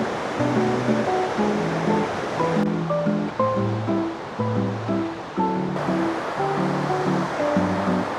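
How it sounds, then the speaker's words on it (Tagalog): Ocean surf crashing along the coast on a day trip near Jiufen and Shifen, Taiwan, a steady, loud, close wash of breaking waves with no voices, overlaid by tonal music. "The waves are crashing."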